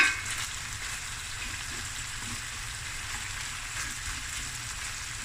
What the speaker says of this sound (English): Okay, it's going to fry away.